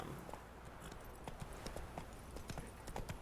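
Horse Roach's hooves clip-clopping in a steady galloping rhythm in the video game Witcher 3, fairly close and moderately loud against a low background hum.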